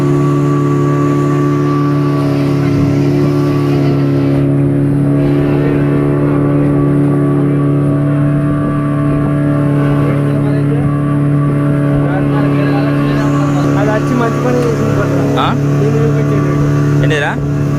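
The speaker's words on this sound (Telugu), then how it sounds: "ఒక్కొక్క అల అయితే బోటును అటు ఇటు ఊపుతుంది" A motorboat engine on a Goa trip drones steadily and loudly throughout, with a constant low hum and a few brief knocks near the end. Voices chatter faintly beneath it.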